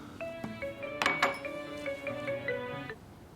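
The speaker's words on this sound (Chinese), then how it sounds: "电话。" A telephone rings with a repeated electronic melodic tone in short regular notes, with a couple of sharp clinks partway through, fairly close and clear with no talking.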